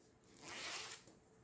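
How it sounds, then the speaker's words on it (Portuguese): A zipper on a small fabric makeup pouch is pulled open in one smooth, quiet rasp lasting under a second, close by, with nobody talking. "agora nós vamos abrir esse zíper"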